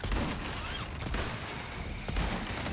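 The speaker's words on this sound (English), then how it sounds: "nice wrist-mounted machine gun, idiot" A wrist-mounted machine gun fires in Resident Evil 4, a dense, continuous rattle of rapid shots with a couple of heavier thumps, loud and unbroken through the clip.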